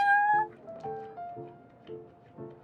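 A cat meows in a dice-and-card game set in a tavern, a few short mid-pitched calls spaced across the moment, fairly close and clear with no talk over them.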